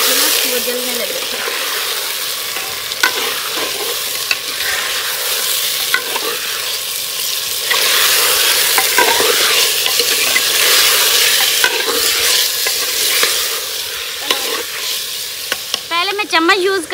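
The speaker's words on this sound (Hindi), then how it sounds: "प्याज हमारे फ्राई हो गए, अब इसमें डाल रहे हैं चिकन और जल्दी जल्दी डाल रहे हैं" Chicken with fried onions sizzles in a clay handi, a loud, close crackle broken by quick scraping and knocking strokes as the pieces are stirred rapidly.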